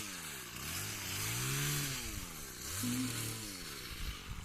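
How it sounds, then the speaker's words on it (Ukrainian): A chainsaw cutting through brush in a village plays some way off, its engine rising and falling in two long revving swells over a steady outdoor background. "почула, що пилка робить"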